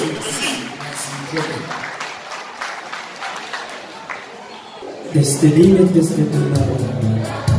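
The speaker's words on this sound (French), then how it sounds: "Les applaudissements s'il vous plaît, encouragez-le." Applause rises from a wedding crowd for a performer, soft clapping at first under an announcer's voice, then swelling into a louder burst of clapping and cheering near the end.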